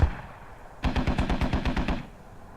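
A rapid string of about a dozen evenly spaced, loud booming impacts from a military video game, thudding one after another for just over a second, with no talk.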